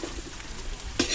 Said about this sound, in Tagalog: Gigisa na.